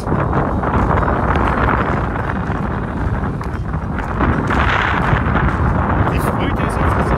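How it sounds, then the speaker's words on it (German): Wind gusting over the microphone on the Teufelino children's hiking trail, a loud steady broadband roar filling the whole stretch, with children and adults talking faintly beneath it. "das ist der Wind"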